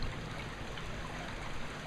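Continuous trickling and splashing water flows close by from a water wheel in a creche display, steady and even throughout, with nothing else standing out.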